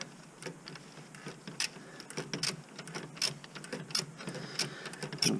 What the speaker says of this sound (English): I'm going to crank it down with the rest of the wrench, socket wrench.